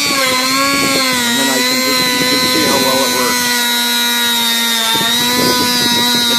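A Dremel rotary tool fitted with a homemade abrasive polishing buff whines steadily at mid speed, a sustained high tonal hum with shifting rubbing and scraping tones as it grinds rust from metal, running throughout.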